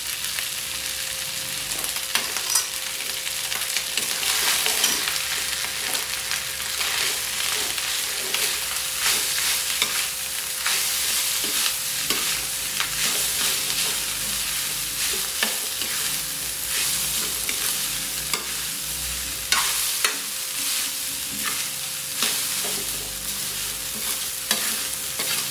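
Chicken garlic fried rice is stir-fried in a pan, with a loud, steady sizzle and frying hiss throughout, broken by frequent scraping and stirring clicks of a utensil.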